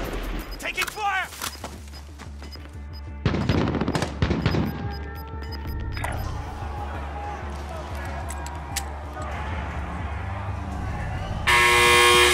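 Rapid gunfire from a Call of Duty: Modern Warfare battle royale match: bursts of automatic weapon fire and sharp shots mixed with game effects and beeps, with a voice talking intermittently.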